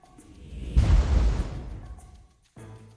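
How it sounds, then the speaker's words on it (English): A glitter bomb bursts from a package: a sudden low whooshing burst that swells for about a second, then fades into a quieter tail before cutting off. "Even from inside his house, Alex can see the explosion of glitter."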